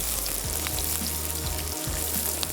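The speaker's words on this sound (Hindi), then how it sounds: "प्याज को लाइट ब्राउन करना है" Onions frying in oil for a fajita karahi gravy, a steady close sizzle with occasional stirring scrapes and small pops, loud and continuous with no talk.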